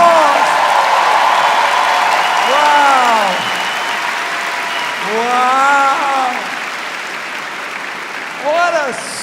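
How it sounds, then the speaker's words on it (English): Audience applause fills a stand-up comedy show, loud and sustained across the whole stretch, with a voice speaking over the clapping. "Give them a round of applause"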